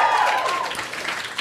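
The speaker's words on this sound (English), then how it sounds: "Round of applause for that." Audience at a Nerd HQ panel claps briefly, a soft wash of applause from a room fading out over about a second while a voice carries over it.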